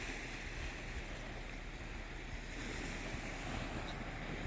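Waves break on a resort beach at Cayo Guillermo, Cuba, a steady soft wash of surf blended with wind noise on the microphone and nobody talking.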